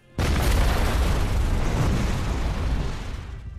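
A car blowing up in a film scene, one massive sudden blast that stays loud and roaring for several seconds before slowly easing off, with no talk over it.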